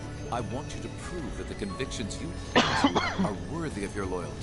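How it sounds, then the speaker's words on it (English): A brief cough from a character in a Trails of Cold Steel II video game cutscene, sharp and close, breaking into ongoing dialogue that continues around it. "It was not a sneeze, it was a cough."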